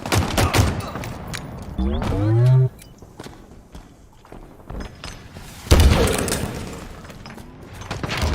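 Bursts of rapid gunfire and impacts from the Halo Infinite video game, with footsteps and other game effects in between. A voice speaks briefly during the action.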